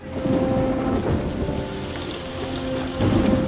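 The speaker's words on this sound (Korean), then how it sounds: "비가 내리는 늦은 밤," Steady rain pours down late at night with a continuous hiss, a low rumble running beneath it throughout.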